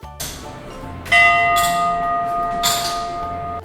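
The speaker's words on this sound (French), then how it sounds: "À base de cloches géantes qui font de toi un membre de la Guinness Academy" Giant bells ring at the Guinness Academy in Dublin, three loud strikes spaced about a second apart, each hum ringing on and overlapping the next in a sustained metallic wash.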